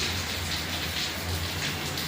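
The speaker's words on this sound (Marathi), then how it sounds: "पावसाचं तर भरपूर असं चालू आहे" Heavy rain falling outside a house, a steady broadband hiss of downpour with a low rumble underneath, constant and fairly close, no voices.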